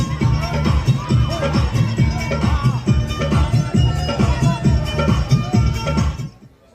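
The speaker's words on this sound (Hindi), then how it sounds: "इस कार्यक्रम में लोगों की भीड़ आपको खचाखच नजर आएगी" A dense, dense crowd roars and cheers without pause at an all-night school dance programme, loud and close, with music-like rhythmic thumping underneath, before the sound cuts off near the end.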